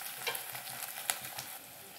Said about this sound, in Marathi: आता आपण 2 मीडियम साईजचे टोमॅटो कापलेले घालूया आणि छानपैकी परतून घेऊया।